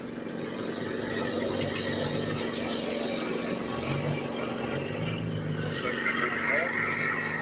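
A rally car's engine drones steadily as it nears the finish line of a Welsh stage, a continuous mid-pitched hum under a commentator talking throughout.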